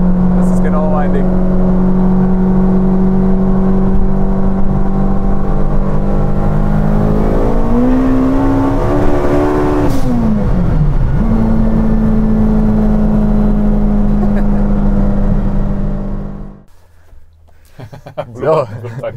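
An 800 hp turbocharged four-cylinder front-wheel-drive Honda Integra revs and accelerates loudly and close, holding a droning high-rpm tone that climbs and dips through shifts, then drops off sharply near the end.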